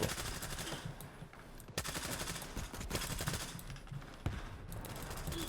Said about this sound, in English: we're going full auto silenced with AP rounds